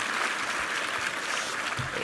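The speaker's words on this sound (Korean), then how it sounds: "우리 정영균 지휘자와 우리 챔버 팀 힘찬 한번 감사의 박수 부탁합니다." A church congregation applauds a chamber ensemble that played a fusion of traditional Korean gugak and classical music, giving steady, dense clapping that holds evenly throughout at moderate loudness.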